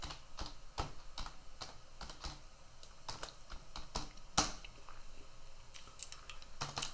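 Root password being typed on a computer keyboard to log into a CentOS host: a quiet run of irregular, crisp key clicks with a slightly louder keystroke midway, no voices.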